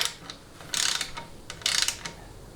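A hand ratchet clicks in two short bursts while tightening the transmission pan bolts on a Ford AOD automatic transmission, close and crisp with quiet pauses between.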